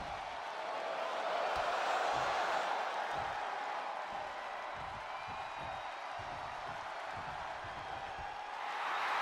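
Crowd noise in a WWE SmackDown Royal Rumble-style video game, a continuous roar of cheering with scattered whoops, filling the whole stretch without a break.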